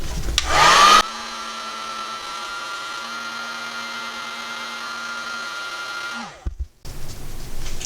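Heat gun running on its low setting to warm pink and silver resin for 3D-effect coasters, a steady loud blowing hum with a tonal whine that runs for about five seconds after a brief louder burst, then cuts off into quieter handling noise.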